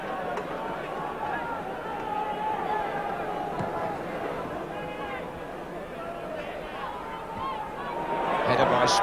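Partisan football crowd inside Hillsborough stadium at an FA Cup sixth-round match between Sheffield Wednesday and West Ham, a steady distant roar and murmur of thousands of spectators, swelling louder at the end, under a commentator's voice.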